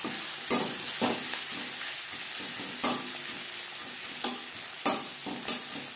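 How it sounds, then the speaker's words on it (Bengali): Onions sizzle in the oil left from frying katla fish for a Bengali fish kalia, a steady close frying hiss broken by several sharp stirring scrapes of a spoon against the pan. "মাছ ভেজে নেওয়া তেলে দিয়ে দেবো 2টো পেঁয়াজ।"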